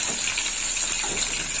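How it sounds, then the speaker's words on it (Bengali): A steady, close stream of water pours into ground spice mix while a Bengali stalk curry is being prepared, a continuous splashing gush with no talking. "এই গুঁড়ো মশলার মধ্যে একটু জল দেবো।"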